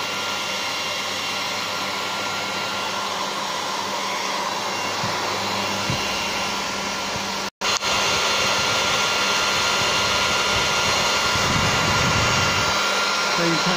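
An air dryer blows steadily at close range to clean a beekeeping queen guard, a loud continuous whooshing broken by one brief cutoff midway before resuming.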